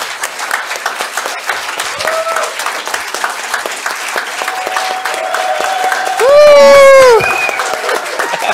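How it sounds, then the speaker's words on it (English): Conference audience applause during a closing session, clapping running throughout with a tone-like sound cutting in briefly near the end and some voices mixed in. "I just want a big round of applause for Bojan, our rock star"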